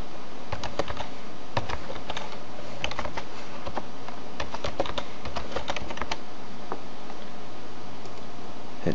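Password keys tapped on a computer keyboard during a Windows XP install, a close run of quick irregular clicks over a steady hum, no voices.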